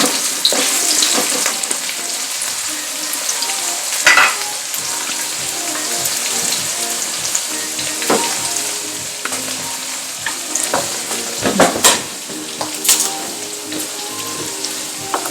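Sauce for chicken nuggets sizzles steadily in a pan while being stirred, with loud frying crackle throughout and scattered scrapes and clatters from the utensil against the pan.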